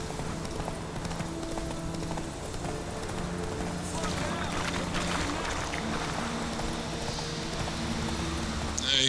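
A horse gallops in The Witcher 3 video game, its quick rhythmic hoofbeats sounding under a game soundtrack with steady tonal music, and someone talks over it.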